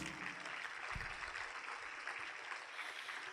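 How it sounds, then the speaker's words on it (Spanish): A church congregation claps for Jesus during a sermon, producing a steady, fairly faint wash of applause that continues without a break. "dale un aplauso a Jesús"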